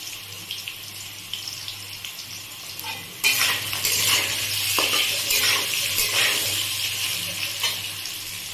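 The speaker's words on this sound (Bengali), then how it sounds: "আলুগুলো আমার ভাজা হয়ে গেছে" Potatoes fry in a karahi with salt and turmeric for a vegetarian biryani, giving a steady hissing sizzle that jumps louder a few seconds in and stays busy, with no voices.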